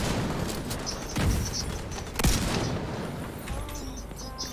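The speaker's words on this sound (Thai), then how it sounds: "โอ้โหเสียงปืนมันของจริงเลยเดี๋ยวจะยินไกลๆอย่างเงี้ย" Two sharp gunshots crack out about a second apart over a steady background rumble, sounding far off rather than close.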